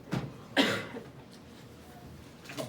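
A cough in a classroom during a math lesson, a couple of short bursts at the start followed by a quieter one near the end, over low room noise with no talk.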